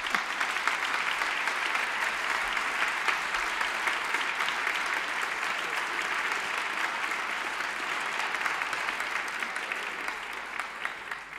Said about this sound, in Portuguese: uma salva de palmas para elas ganharem coragem